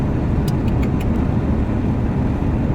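Car driving, heard from inside the cabin: a steady, loud low road and engine rumble throughout, with a few light ticks early on.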